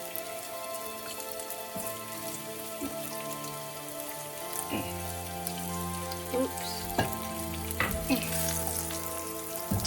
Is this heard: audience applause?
no